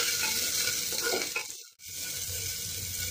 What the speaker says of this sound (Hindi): गोभी को सबसे पहले मैं फ्राई कर ले रही हूँ।